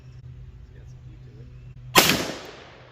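A single loud 10mm revolver shot bursts out sharply about two-thirds through, its blast decaying over the following second above a steady low background hum.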